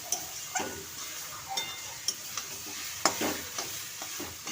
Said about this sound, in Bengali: আর একটু বাকি আছে আমার এটা ভাজা হতে, তাইলেই হয়ে যাবে